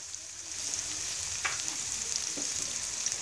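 Garlic stir-frying in hot oil for a spicy Thai fried Mekong giant catfish dish, giving a dense, even, close hiss with a couple of faint stirring knocks and no talking.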